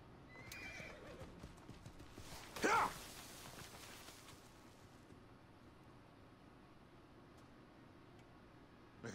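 A horse in the video game Assassin's Creed Origins gives a single loud neigh, with faint hoof clip-clop and quiet game ambience around it.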